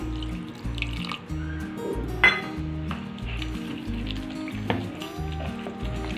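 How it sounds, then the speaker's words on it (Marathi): Milk poured into a rava cake batter of semolina and other ingredients makes a soft, steady liquid rush and splashing, with rhythmic background music playing throughout. "आपण यामध्ये थोडंसं दूध घालून घेऊया"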